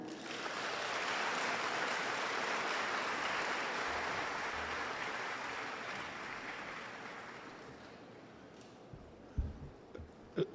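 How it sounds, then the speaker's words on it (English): Sustained applause from a university audience at a parents and family orientation, a dense even wash of clapping that slowly fades over about eight seconds, followed by a few scattered louder claps and thumps at the end. "Another round of applause, man, for our very effervescent president of the Guild of Students"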